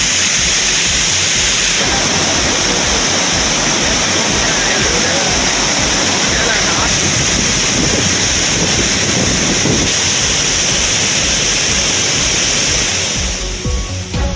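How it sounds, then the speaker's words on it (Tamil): Heavy water crashing down the Courtallam falls in the Western Ghats during monsoon rain, a dense, steady roar filling the whole clip with no let-up. "குற்றால அருவிகளில் தண்ணீர் ஆர்ப்பரித்து கொட்டி வருகிறது"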